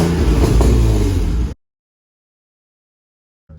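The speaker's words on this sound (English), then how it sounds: "Rev it a little." A Nissan 350Z fitted with a Z1 Y-pipe revs hard and loud for about a second and a half, then cuts to silence, with a brief sound returning at the very end.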